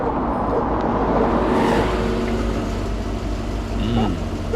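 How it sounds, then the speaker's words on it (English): An ambulance in the game Hitman: Contracts drives off with a loud, steady engine rumble and road roar that fills the whole stretch, with faint tonal hints above it. "with the paramedic's car key, we can escape in the ambulance right here"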